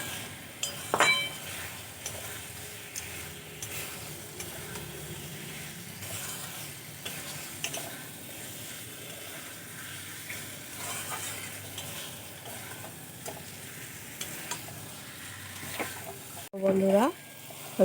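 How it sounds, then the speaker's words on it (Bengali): Kochur loti (taro stolons) being stirred into fried spices in a pan, giving a steady soft sizzle with scraping and occasional clinks of the spoon against the pan. A louder clatter comes near the end. "লতিগুলো দিয়ে খুব ভালো করে আমি মিশিয়ে নেব।"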